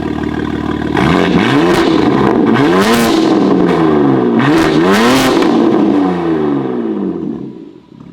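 BMW G8X engine with exhaust valves open, revved hard several times in quick succession, each loud swell climbing and falling in pitch close by, then easing off toward idle at the end.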